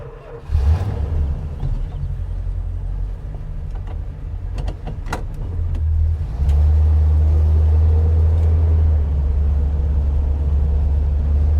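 A 1969 Dodge Polara with a 440 V8 idles with a deep, steady rumble, a few mechanical clicks and a brief whir in the middle, then the engine note rises and holds louder as the car pulls away.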